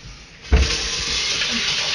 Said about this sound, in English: and I'm going to put a little water in it.